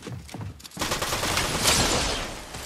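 Gunfire in the Fortnite video game, a shotgun among it, starts with a few separate sharp blasts, then turns into a dense, loud, continuous barrage of overlapping shots and impacts that lasts to the end, with no talking.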